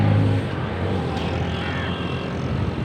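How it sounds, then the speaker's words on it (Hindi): Heavy container trucks and other vehicles rumble across a high bridge in Karachi, producing a loud, steady roar of traffic with a stronger surge at the start. "ये पुल ऐसा है कि इस पे से जो गाड़ी गुजर रही है उसका शोर बहुत है, इसकी आवाज़ बहुत है"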